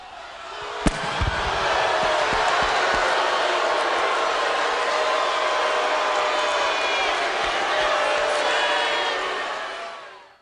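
A live WWE wrestling arena crowd reacts in a sustained, broad roar of voices after a sharp slam-like thud near the start, then holds steady and fades at the end.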